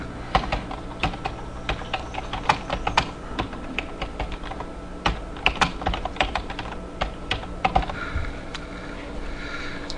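Computer keyboard typing with repeated taps of the tab key, a close run of crisp, irregular clicks and clacks at a steady working pace, no voices.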